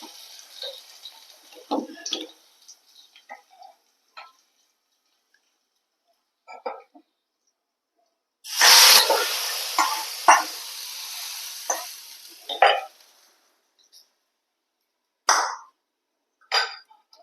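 Mustard seeds and curry leaves fried as a tempering are poured into a pumpkin and onion curry, setting off a sudden loud sizzle that hisses for several seconds and then fades, with faint scattered clinks before and after.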